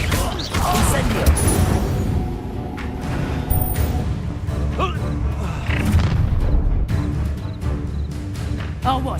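Incendio fire spell cast in the video game Hogwarts Legacy: loud continuous booming fire blasts and crackling combat effects, steady and dense throughout, with a voice shouting over it.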